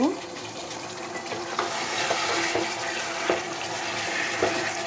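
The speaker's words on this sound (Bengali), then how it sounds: "এখন আমি আলু দিয়ে আবার কষিয়ে নেব" Potatoes sautéing in a pan give a steady close sizzle, with a few sharp scraping strokes of a spatula spread irregularly across it.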